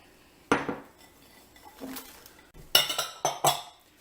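Green and red bell peppers are stirred around in a crock pot, making several clinks and scrapes of a utensil against the pot in short, irregular bursts with quiet gaps between.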